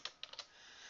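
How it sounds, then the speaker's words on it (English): Four quick keystrokes on a computer keyboard while entering a title into a Microsoft Visio organisation chart, crisp and close over a faint steady room hiss, with nobody speaking. "And I'll go to Title and I'll type CEO."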